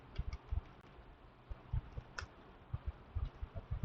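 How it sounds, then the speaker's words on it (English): Typing on a computer keyboard while coding, quiet close-up key clicks in irregular bursts with brief pauses, soft and alone. "if I'm typing like this"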